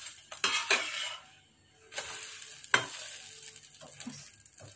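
A pancake for an IBS-friendly lunch cooks in a frying pan, sizzling softly near by while a spatula scrapes and clinks against the pan in a few sharp bursts.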